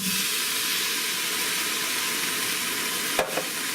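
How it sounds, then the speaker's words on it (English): Beef ramen stir fry sizzling steadily in a pan as a can of baby corn goes in, a dense continuous frying hiss with a brief sharp clatter near the end. "Add that 1 can of baby corn,"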